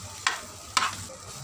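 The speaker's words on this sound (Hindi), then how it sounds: "मसाले को हम अच्छी तरह से मिक्स कर लेंगे।" Boiled, coarsely mashed potatoes being mixed with spices in a bowl, two short soft scraping strokes of a spoon about half a second apart over a quiet background.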